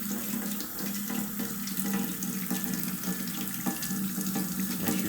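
Tap water runs steadily into a sink during a hand rinse after a dish-soap handwashing test, a continuous close splashing hiss lasting throughout with no voices.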